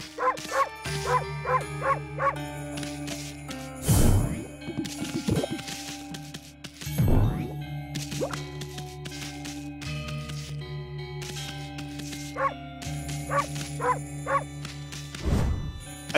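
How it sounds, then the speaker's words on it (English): A dog barks in the video game Okami, short barks recurring over busy game music with ringing chimes and clanging effects, with no talk. "I thought this dog was a wolf."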